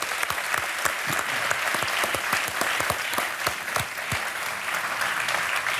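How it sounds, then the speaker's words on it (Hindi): A studio audience at a TV quiz show applauds a contestant, with dense, even clapping and a few sharp individual claps standing out throughout. "एक बार फिर तालियां बज जाए सोनाली जी के लिए।"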